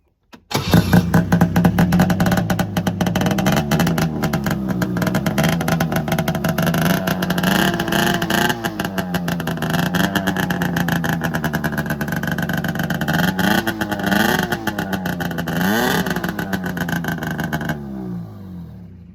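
A 1996 Ski-Doo Touring SLE 503 snowmobile engine fitted with a homemade can muffler built from a Black Widow 2.5-inch exhaust, idling then revving repeatedly with a raspy, popping two-stroke note, close and loud throughout without talk.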